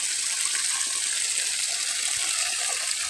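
Weak, steady gush of water from an irrigation pump pouring into a dry rice field in summer, a soft continuous splashing flow heard close with no talk.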